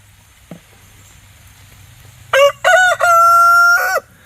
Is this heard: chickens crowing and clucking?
yes